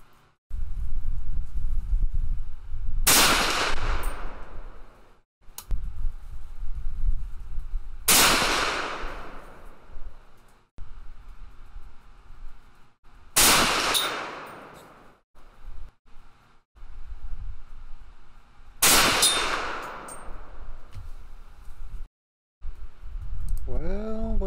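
Four loud, sharp rifle shots from an SKS firing hand-loaded 7.62x39 soft point rounds, spaced roughly five seconds apart outdoors, each with a short trailing echo and faint handling noise in between.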